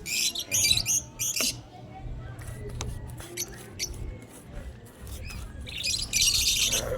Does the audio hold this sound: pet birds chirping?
yes